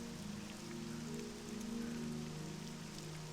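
Rain pattering steadily in the video game Morrowind, a continuous soft hiss of drops with low tonal game hum beneath, even and unbroken, no talk.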